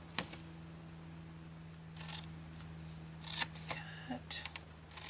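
Scissors snip through paper for a Halloween gift box, a few short crisp cuts spread through the clip over a low steady hum, with brief speech nearby.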